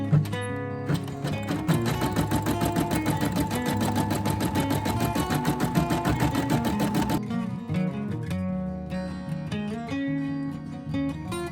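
An embroidery machine stitches appliqué onto a onesie with a rapid, steady mechanical chatter that runs loud and continuous, then changes pace about two-thirds of the way through.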